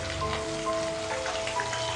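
Eggs frying in hot oil in a pan, a steady close crackling sizzle with dense spattering pops throughout.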